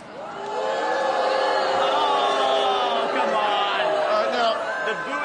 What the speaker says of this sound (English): The booing sounds distinctly high-pitched.